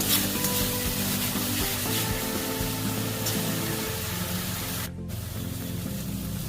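Masala spice paste frying in oil for an egg poach curry gives a steady, dense hiss and sizzle that runs throughout, with soft scraping from stirring and a brief dip near the end.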